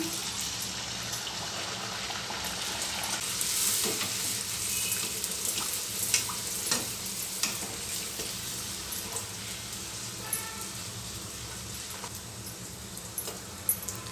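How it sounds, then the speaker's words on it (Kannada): Whole wheat puris deep fry in hot oil, a continuous moderate sizzle and bubbling with occasional spoon clicks and splashes as they are turned, no talking. "ಪೂರಿಗೆಲ್ಲ ಎಣ್ಣೆ ಚೆನ್ನಾಗಿ ಕಾದಿರಬೇಕು"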